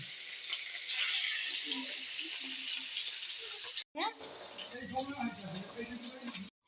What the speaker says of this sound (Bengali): মাছটাকে আমি ভেজে নিচ্ছি।